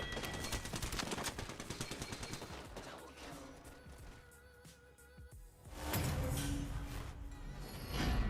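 Rapid automatic gunfire from hip-fire shooting in the battle royale game Apex Legends, dense bursts of shots rattling continuously, easing briefly mid-clip before a loud renewed stretch of firing.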